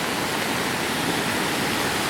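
The flooded Trebuščica river roars in a dense, unbroken rush of churning water carrying trees along, steady and loud without pause or voices.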